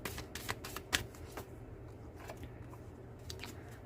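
Tarot cards are shuffled in quick, quiet bursts of papery riffling and slapping, clustered in the first second and a half, then faint scattered flicks over a low room hiss.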